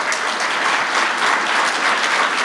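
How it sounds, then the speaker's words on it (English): An audience at the Southern Vermont Economy Summit applauds its leadership, with full, continuous clapping that stays loud and even throughout. "if you'd want to give them a round of applause"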